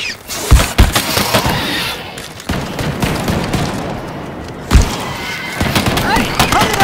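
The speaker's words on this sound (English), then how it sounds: "It's a combat rifle!" Combat rifle fire in the game Earthfall, loud close shots breaking out in sharp bursts over a busy background of game noise and shouting voices.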